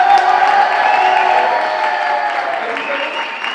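A large concert audience claps and cheers loudly and steadily, a dense wash of applause that slowly fades a little over a few seconds.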